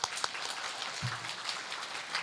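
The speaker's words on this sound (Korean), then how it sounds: "우리 원장님 좌장이신데 지금 들어오고 계신데 박수 한번 보내주시기 바랍니다." Applause from a seminar audience as the session chair enters, a soft, distant patter of many hands clapping that continues steadily and stays faint throughout.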